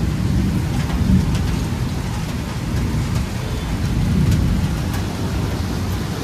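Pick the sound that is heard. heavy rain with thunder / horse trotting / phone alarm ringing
heavy rain with thunder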